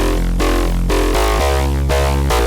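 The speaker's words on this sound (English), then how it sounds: "Of course, we've got our bass." Thick synth bass from a self-made Serum patch layered with noise in an electronic track, a loud, dense, continuous sustained low line shifting notes in steady pulses.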